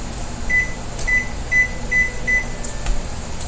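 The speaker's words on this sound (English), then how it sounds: "I'm gonna set a timer for 8 minutes." A kitchen timer is set for eight minutes with a series of five short, bright electronic beeps spaced about half a second apart, followed by a faint click, over a quiet kitchen hum.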